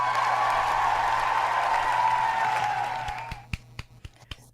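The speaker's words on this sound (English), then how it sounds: "There's the applause." Applause sound effect: a dense wash of clapping that holds steady, then thins out into a few scattered, separate claps near the end.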